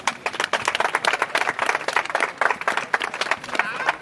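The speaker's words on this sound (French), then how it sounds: "que je vous prie d'applaudir." An audience at a volleyball league ceremony applauds, many hands clapping in a fast, uneven patter that stays loud and close throughout.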